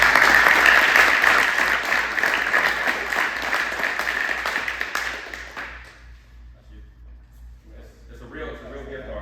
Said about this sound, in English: big round of applause for Buell